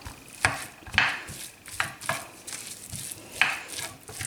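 A spoon mashing potato filling in a pan, with repeated scraping knocks against the pan at an irregular pace and no talk over them.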